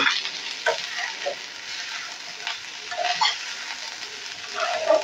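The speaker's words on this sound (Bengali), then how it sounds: "এখন অফ করে আমি আরো একটুখানি নাড়াচাড়া করে নেব" Pulao rice stirred in a pot after the stove is switched off, giving soft intermittent scraping and shuffling scrapes with a faint lingering sizzle, close by and moderately quiet, no talking.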